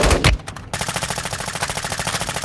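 Automatic gunfire in Call of Duty Warzone: a loud opening blast, a brief gap, then a rapid, evenly spaced burst of shots rattling on steadily to the end.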